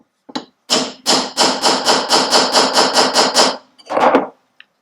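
Hard, ringing hammer taps on a metal part of a Firebird car, a few single knocks and then a quick run of about ten evenly spaced blows, loud and close.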